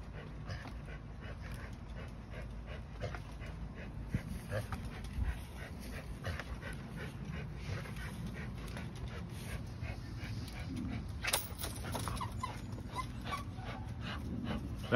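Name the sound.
dog whimpering and panting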